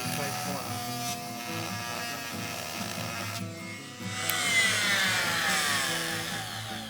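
An oscillating multi-tool with sandpaper stuck to its blade detail-sands wood in tight corners, giving a steady high buzzing whine that shifts pitch partway through as the sanding load changes, close and fairly loud with no talking.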